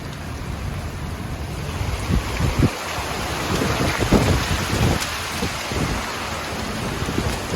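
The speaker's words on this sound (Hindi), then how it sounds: "दुबई में इतनी तेज़ बारिश हो रही है।" Heavy rain pours steadily in Dubai with low rumbling thunder and scattered thumps, loud and close throughout.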